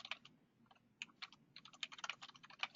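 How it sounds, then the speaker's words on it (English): Someone types on a computer keyboard in the background during an online meeting, a quiet, fast run of uneven key clicks with short pauses and no voices. "there's typing going on in the background"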